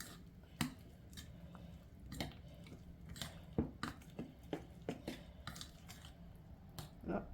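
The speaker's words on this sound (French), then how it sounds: "On mélange." Pea and surimi tart filling being stirred in a dish, soft scraping and clinking of a utensil against the dish in irregular taps, close and moderately quiet, with no talking.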